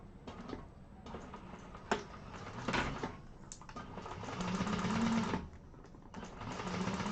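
A sewing machine stitches the side seams of a Konin bowler bag at a quarter-inch allowance, giving a steady close whirring hum that runs in short bursts with brief pauses and small clicks between them.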